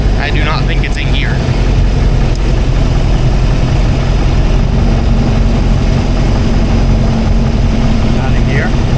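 A restored classic speed boat engine runs loudly and steadily at a low, rumbling idle, close up and unbroken, with brief voices talking over it.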